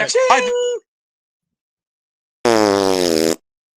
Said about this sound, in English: I find you farting on my show repulsive.